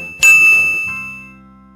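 A bright notification bell ding strikes once, loud and close, then rings out and slowly fades over more than a second, with no voices.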